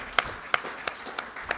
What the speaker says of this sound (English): I want to give a round of applause for each and every one of you for making it out.